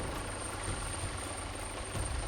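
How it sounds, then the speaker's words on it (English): Helicopter rotor and engine drone on final approach to an offshore platform, a steady continuous whir that stays fairly even throughout, heard alone with no voices. "After receiving permission to land from the platform, rig, or vessel, the helicopter will begin the final approach"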